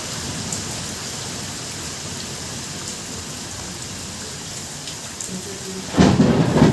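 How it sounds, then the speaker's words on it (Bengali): Steady heavy rain pours throughout, and near the end a deep, loud rumble of thunder swells up over the downpour. "ওই দেখুন কিভাবে মেঘ ডাকছে বাবা।"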